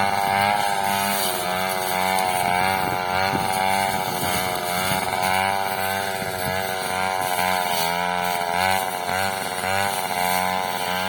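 A T200 brush cutter with a 39 mm cylinder, converted lower tank and single piston ring, cutting grass. Its small two-stroke engine screams loud and close without a break, the pitch rising and dipping as the throttle is worked.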